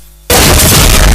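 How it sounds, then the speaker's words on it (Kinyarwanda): Sudden loud blast of gunfire bursts in after a near-silent start and keeps roaring dense and sustained for about a second, close and overwhelming. "Bano bumva amasasu."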